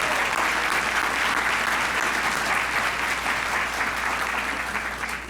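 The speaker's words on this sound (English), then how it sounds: "Let's give a round of applause to all of our sponsors." A conference audience at Convocation applauds its sponsors, thick sustained clapping filling the room evenly and tapering slightly at the end, with no voices over it.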